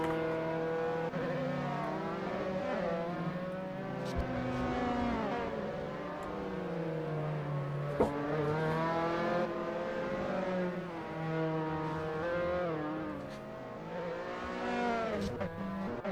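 Race car engine in the Assetto Corsa game during a Formula series sprint race at Imola, with a continuous loud high-revving whine that rises and falls through gear changes across the whole stretch, with no talk over it.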